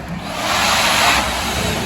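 A vehicle engine with its silencer removed revs loud and close, a broad raspy roar swelling through the middle and holding steady to the end, no talk over it.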